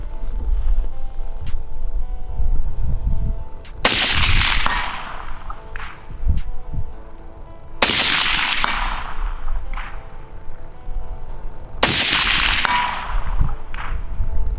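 Rounds from a PWS MK116 Mod 2 rifle strike a steel target downrange, three sharp metallic clangs spaced about four seconds apart, each ringing out after a shot over steady outdoor background noise.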